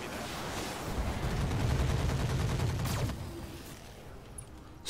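Weapons fire against a light turret in the Roguetech battle game, a dense rumbling volley of shots and blasts for about three seconds, then fading to quieter distant rattling.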